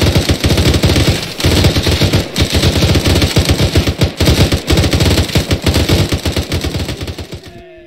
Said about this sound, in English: how to fire a machine gun